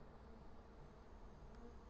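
Jataí stingless bees at a new bamboo nest box give off a soft, continuous insect buzz, steady and fairly faint, with no voices over it.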